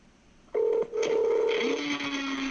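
Telephone dialing tones from a caller's phone on a conference call, a few steady electronic beeps of shifting pitch held in sequence, loud and close with no talk over them.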